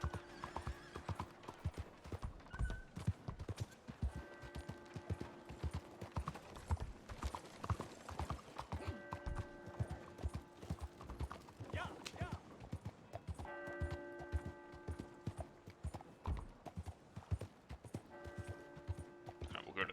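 Horse hooves clip-clop in Red Dead Redemption 2, a steady, trotting beat kept up throughout with an occasional whinny, heard under someone talking and brief greetings exchanged with passersby.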